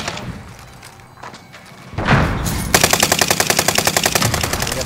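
Rapid, evenly spaced bursts of mounted turret fire in the Warzone video game hammer out loudly and close for the last couple of seconds, following a softer stretch of muffled battle noise and a thud.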